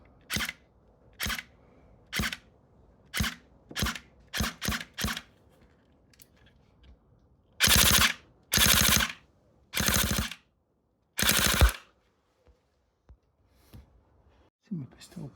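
A Cyma CM.135S airsoft electric gun, a blue AEP fitted with a mosfet, fires sharp bursts at about 13.5 rounds per second: a string of short separate shots, then several longer loud full-auto rips, close and with no talking.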